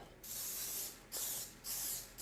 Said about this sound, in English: now we're gonna spray our pan with some kind of neutral oil